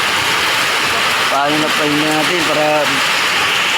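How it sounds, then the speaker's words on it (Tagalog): Heavy rain roars as a constant hiss beneath a voice speaking briefly in the middle. "Grabe ang lakas ng ulan."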